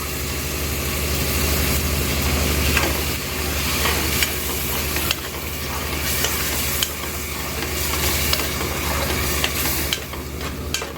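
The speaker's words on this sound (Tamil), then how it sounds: "இப்போ நம்ம அரைச்சி வச்சுருக்க தக்காளியை இதை சேர்த்துடுறோம்." Ground tomato paste sizzles loudly in a pan for country-chicken biryani, a dense close frying hiss that runs throughout with periodic stirring scrapes and short surges.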